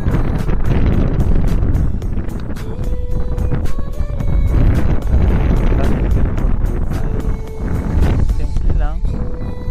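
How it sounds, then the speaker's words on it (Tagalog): Strong wind gusts buffet the microphone at a lakeside campsite, a loud, rumbling, continuous roar that swells and eases, with a voice speaking faintly under it. "kung narinig ninyo yung lakas ng ihip ng hangin"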